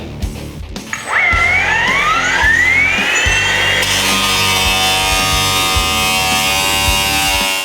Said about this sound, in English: just cut for 30 seconds with our steel chop saw